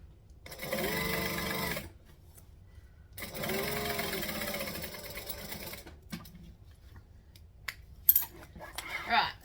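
A sewing machine stitches a tote bag lining in two quick bursts of rapid, rattling whir separated by a pause, followed by quieter small clicks and clinks of handling.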